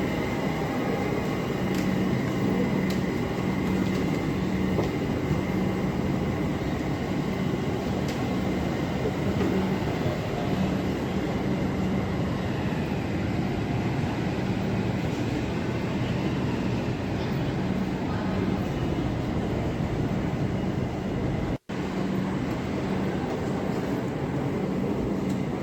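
Kolkata Metro Blue Line train running underground, a loud continuous rumble and roar of the carriage throughout, with a faint hum and a brief dropout near the end.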